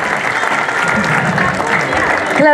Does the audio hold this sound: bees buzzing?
no